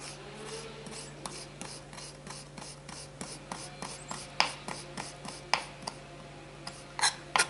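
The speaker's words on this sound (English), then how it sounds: "And using my nice little shredder, I'll just take these," A small handheld zester scrapes strips off lemon peel in a series of quick, dry rasping strokes, close up and fairly quiet, with sharper scratches toward the end.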